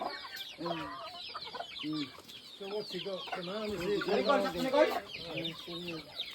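Chickens on a coconut farm cluck and squawk in repeated close, busy calls that overlap one another across the whole stretch.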